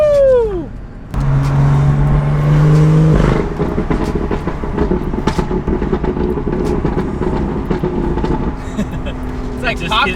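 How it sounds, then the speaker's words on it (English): A tuned Nissan 370Z with catless downpipes and a stock exhaust with all resonators deleted revs sharply, rises to a loud held rasp, then drops into burbly crackling pops, with people chatting and cheering nearby. "It's literally the stock exhaust. It's just got all the resonators deleted."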